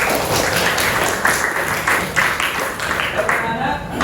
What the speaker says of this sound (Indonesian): Dan sudah tepuk tangan dulu kita semuanya.